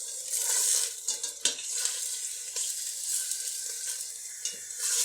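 750 grams of beef strips fry over a high flame for pasanday, giving a loud, continuous hissing sizzle with bursts of sputtering and stirring throughout.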